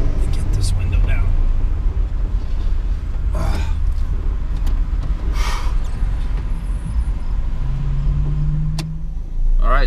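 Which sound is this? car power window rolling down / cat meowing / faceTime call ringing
car power window rolling down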